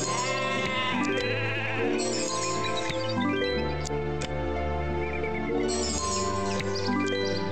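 Sheep bleating in the video game Hero of the Kingdom, repeated calls over a dense, steady game music bed with no talk.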